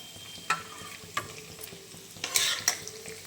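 Paneer frying in hot oil in a pan, with a soft steady sizzle broken by a few sharp stirring knocks and scrapes, and one brief louder sizzling burst near the end.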